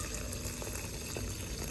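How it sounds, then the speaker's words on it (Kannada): Jaggery syrup strained and poured into a pan of partly cooked millet for payasam, a steady, close trickle and gush of liquid running continuously with no voices. "ಈಗ ಬೆಲ್ಲದ ಪಾಕನ ಇದಕ್ಕೆ ಸೋಸ್ತಾ ಇದ್ದೀನಿ."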